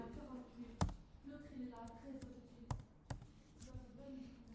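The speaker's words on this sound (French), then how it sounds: "je vais faire un commande V, je vais coller" A Command-V paste shortcut is pressed on a computer keyboard, giving a few sharp, separate key clicks close to the microphone while a voice talks quietly between them.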